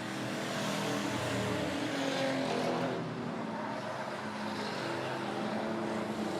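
Race cars roar around the Bombers class feature at Monett Motor Speedway, a loud, continuous dense engine drone from several cars that swells and shifts as the pack passes close by.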